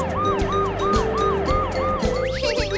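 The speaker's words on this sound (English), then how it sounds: "The Pororo ambulance went wherever there were sick patients." Cartoon ambulance siren wailing in a fast, repeating wee-woo pattern, loud and close over a steady vehicle hum, with no talking.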